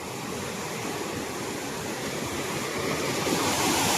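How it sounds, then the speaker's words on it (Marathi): The Khaire waterfall, running low on water, rushes in a steady broadband roar that holds evenly and swells slightly toward the end, with no voices over it. "हे बघा समोर आपल्याला फायनली धबधबा लागलेला आहे."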